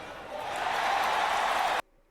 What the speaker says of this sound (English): That's a very loud crowd.